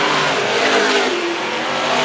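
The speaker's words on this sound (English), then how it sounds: "His car sounds good, it's working well, it's turning in" Stock car engines roar at full throttle around the oval at Arlington Stadium, a loud, steady racing drone with a slight rising pitch as cars sweep through a bend.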